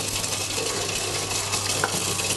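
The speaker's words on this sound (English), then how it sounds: "So in the pan there, you've got onions just cooking away there." Onions with ginger garlic paste sizzle steadily in a pan for Goan-style native lobster, a continuous bright frying hiss with faint stirring clinks, close and even throughout.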